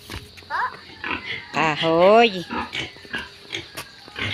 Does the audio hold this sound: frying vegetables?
no